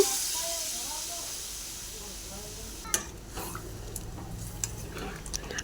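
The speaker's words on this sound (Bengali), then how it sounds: "টমেটোর পেস্ট করে আর কাজুর পেস্ট করে যে জলটা রেখেছিলাম সেটাই আমি এখানে দেব" Water saved from blending tomato and cashew paste poured into a hot pan for a jackfruit curry, a loud hiss and sizzle that fades over a few seconds, followed by faint clinks and stirring, with a voice speaking.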